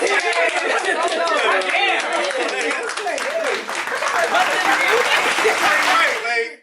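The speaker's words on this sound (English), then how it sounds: "Let's clap it up for them." A small audience claps and cheers for a married couple, lively clapping mixed with chatter and laughter close by, running continuously before cutting off at the end.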